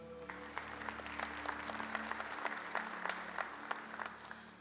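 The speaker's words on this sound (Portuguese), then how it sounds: "Aplauda a palavra do Senhor." A church congregation at a camp service applauds steadily, many hands clapping in a sustained, even wash with a low hum underneath and no voices over it.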